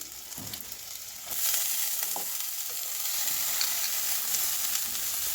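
Frying potatoes in a pan sizzle softly, then the sizzle jumps louder as chopped cabbage goes in, with steady frying and occasional stirring after and no talk.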